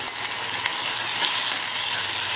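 Urad dal stirred and frying in a pan with turmeric gives a steady, close sizzle with soft scraping of the spoon, a continuous hiss with no voices over it.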